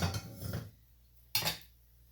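Fried potato and cauliflower being tipped into a bowl with spoons set in the middle: two short bursts of metal-on-bowl clinks and scrapes, close and moderately loud, with a quiet gap between them and no talk.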